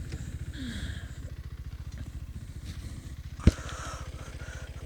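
A KTM 390 Adventure motorcycle sits idling in neutral with a steady low thumping rhythm, close and moderate, with a single sharp click partway through and no talking.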